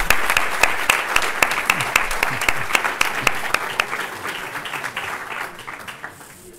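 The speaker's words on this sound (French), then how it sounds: "Un tonnerre d'applaudissements pour Nathanaël Berton" Conference audience applauding the arrival of champion athlete Nathanaël Berton, loud close clapping with distinct individual claps, starting strong and thinning out toward the end.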